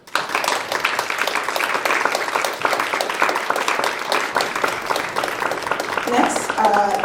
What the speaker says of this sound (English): So please clap your hands for my new friend, Niyi Adeogun.